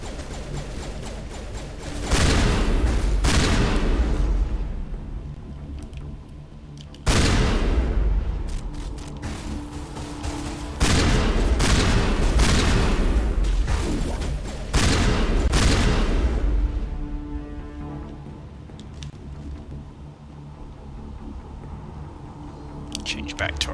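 Gunfire in the video game Mass Effect Legendary Edition, with loud bursts of rapid shots and booming impacts in several clusters separated by short lulls, mixed with game sound and voices.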